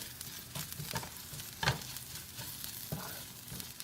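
Curry leaves and spices frying in a pan for Kerala kadala curry, a continuous moderate sizzle with occasional stirring knocks and scrapes, one sharper clatter near the middle.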